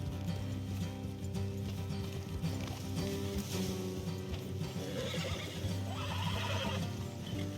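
Horses in Red Dead Redemption 2 neigh and whinny near the road with some hoof clip-clop, a close, continuous mix of snorts and whinnies over a soft game background.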